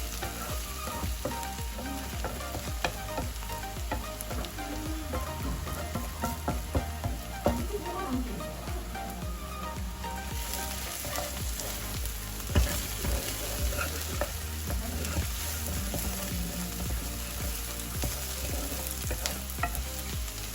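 Onions fry steadily in a pan for prawn thokku, a dense continuous sizzle with occasional stirring scrapes and clinks, close and even throughout.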